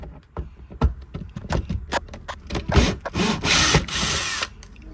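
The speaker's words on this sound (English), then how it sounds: "So I'm currently about to undo all of these bolts on this side. So just got the screw gun out." A screw gun undoes bolts on a high-mileage Vauxhall Astra, giving repeated close, loud whirring bursts with short pauses and a longer sustained run near the end, with ratcheting clicks.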